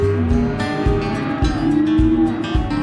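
Cattle lowing in a cattle-drive pen as they move through a chute, with long, loud, deep moos overlapping one another up close.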